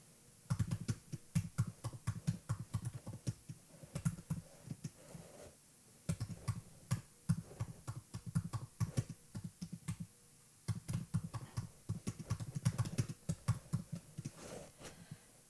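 Steady bursts of typing on a computer keyboard, fast clustered key clicks in several runs with brief pauses between them, close and fairly quiet with no voices.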